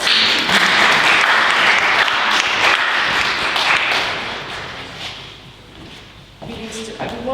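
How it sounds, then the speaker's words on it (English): Applause from a conference audience at an international event on intercultural differences, a dense wash of clapping that gradually fades, with voices emerging toward the end. "Welcome her with bravo applause."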